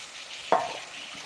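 Tomato bhaji gets stirred in a hot pan, one brief scraping stir over a steady soft sizzle, close and quiet.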